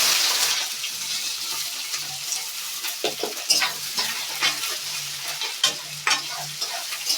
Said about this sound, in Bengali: দেখো কেটে রাখা পেঁয়াজ দিয়ে দিলাম।